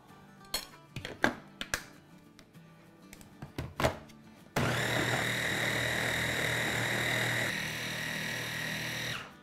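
A blender grinds a no-cream mango ice cream mixture: several sharp knocks and thuds first, then the motor starts and runs in a loud, steady whir until the end.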